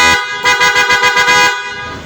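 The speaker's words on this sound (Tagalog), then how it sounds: "Ito na yung loud horn. Yung paos na PIA horn." Hoarse, loud PIA horn fitted to a Yamaha Mio Gear motorcycle, a steady blaring honk held for over a second with a pulsing flutter, then cut off abruptly.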